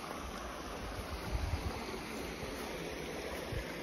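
Water from a dam pours steadily through an irrigation canal, a constant rushing wash of flow heard up close with no talking.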